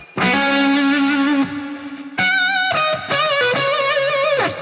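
Electric guitar leads and bends played high on the fretboard through a Sonicake budget octaver pedal: loud, distorted sustained notes with pitch bends and vibrato, a long held note and then a quicker run of bent phrases.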